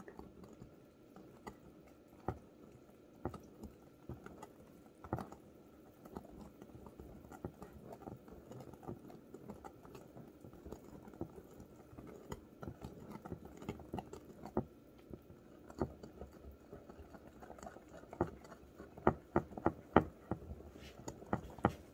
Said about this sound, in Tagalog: Then, mixing.